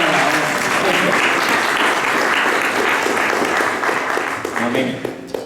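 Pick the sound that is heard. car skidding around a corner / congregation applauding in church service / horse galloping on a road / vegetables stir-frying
congregation applauding in church service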